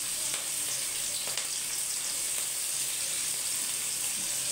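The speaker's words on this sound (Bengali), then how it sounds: "এটা ভেজে তোমাদেরকে দেখাবো।" Short-cut yardlong beans fry in hot oil in a pan in a home kitchen, giving a steady, close, even sizzle with faint stirring clicks.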